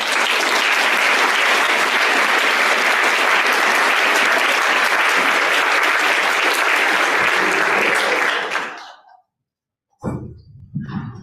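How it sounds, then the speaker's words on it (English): An audience applauds senior speeches with loud, dense clapping that runs steadily for about eight seconds, fades to silence, then resumes briefly and more thinly near the end. "Let's give our speakers another round of applause."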